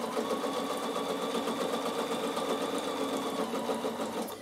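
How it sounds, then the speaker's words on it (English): A Bernina sewing machine runs steadily, stitching across fabric to anchor wool during an upcycling project, with a continuous rapid mechanical whirr and rhythmic needle clatter, close and fairly quiet. "And I'll just stitch across the bottom to hold it."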